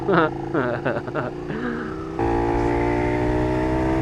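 A KTM 1390 Super Duke R Evo motorcycle engine revs hard and accelerates, a loud, close, sustained rising drone that takes over after someone talks for the first two seconds.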